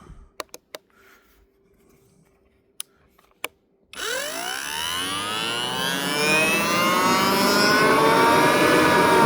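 Homemade Shahed-style drone assembled from DniproM power tools, a few sharp clicks, then its motor spins up with a rising whine into a loud, steady buzzing drone that keeps climbing in pitch.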